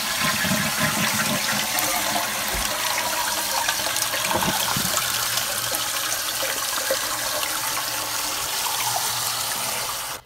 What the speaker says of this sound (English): And I'm gonna try flushing it and see how it works.